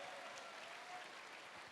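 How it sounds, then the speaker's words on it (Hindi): Applause from an audience at a seminar honoring a speaker, a dense steady clatter of clapping sustained throughout at a fairly faint, even level with no voices over it. "मैं चाहूंगा एक बार जोरदार तालियां होनी चाहिए सर के लिए"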